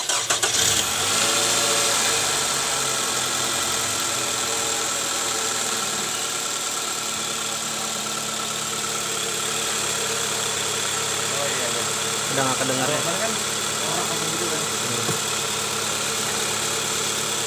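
A 2005 Toyota Camry 2AZ engine turns over and settles into a steady idle around 1100 RPM, with people talking nearby over the running motor.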